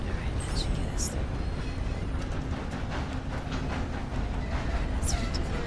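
Moving train in the video game Red Dead Redemption 2, a steady loud rumble and rattle running throughout with faint clicks, while a person talks over it.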